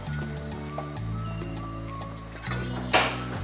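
Melting candle wax is stirred in a pot, with light metallic clinks and scraping against the sides over a steady tonal hum, ending in a sharper clatter.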